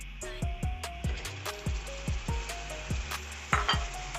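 Chopped tomatoes fry with spices and cinnamon in a pan for Lahori restaurant-style anda chana, a spatula scraping in steady rhythmic strokes over a constant low sizzle, close and clear with no voices.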